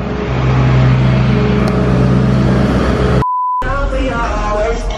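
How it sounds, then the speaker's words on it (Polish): A garbage truck on a New York street gives a loud, close, steady engine rumble with a heavy low drone, broken by a short electronic beep tone and a brief silent gap before the rumble resumes. "Śmieciarka."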